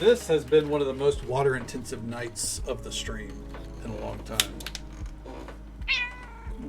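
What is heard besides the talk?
cat meowing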